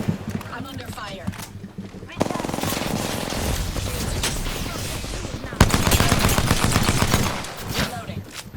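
Dense bursts of automatic weapon fire from the Apex Legends battle royale game crackle loudly and almost continuously, rapid rattling shots with brief pauses, while a voice speaks over the action.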